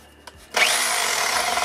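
A hammer drill runs in hammer mode after a short click and a brief pause, setting off a steady loud whirring rattle that holds to the end. The tool is a second-hand drill found at a dump in Germany.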